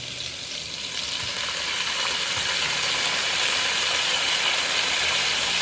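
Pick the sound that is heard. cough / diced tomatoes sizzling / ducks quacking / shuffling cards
diced tomatoes sizzling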